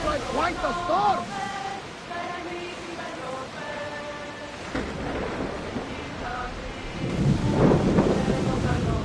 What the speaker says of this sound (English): That looks like quite a storm!